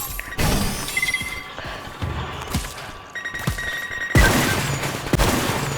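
Paintball gunfire in the Roblox game BIG Paintball 2, a rapid volley of sharp cracks with glassy impact hits scattered over several seconds, close and fairly loud, ending in a heavier burst of shots.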